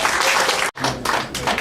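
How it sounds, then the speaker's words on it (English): A game show studio audience breaks into loud, sustained applause that cuts out abruptly for a split second, then resumes at full strength, a dense wash of clapping close by. "Please give a round of applause for the amazing Jamie"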